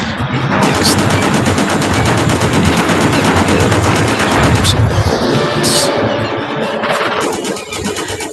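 The Gatling gun in the video game Just Cause fires in long, rapid sustained bursts, loud and close, with a dense rattling roar and a few brief pauses and sharp impacts near the end.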